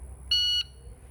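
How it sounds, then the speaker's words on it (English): Single electronic start beep from a shot timer used in a shooting sport, a clean high tone lasting about a third of a second, heard alone over faint background hum. "And so that beep is going to sound something like this."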